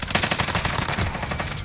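Dense, continuous automatic gunfire from Call of Duty: Modern Warfare on Rebirth Island, a steady rapid rattle of shots filling the whole moment at close range with no pauses.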